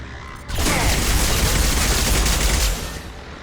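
Dense sustained gunfire from a firefight in Mass Effect 2, a loud continuous barrage of overlapping shots lasting about two seconds before cutting off abruptly.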